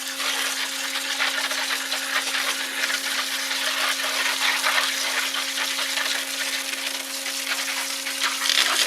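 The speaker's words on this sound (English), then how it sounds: "so when I wash they don't fly all over" Peanuts being rinsed in a plastic nursery mud flat used as a strainer, a steady rushing hiss of running water with a constant hum beneath it, continuous and fairly loud throughout.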